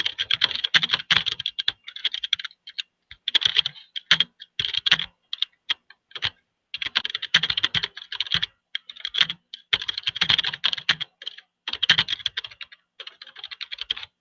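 Someone types text on a computer keyboard in quick bursts of close, crisp keystrokes, with short pauses between runs.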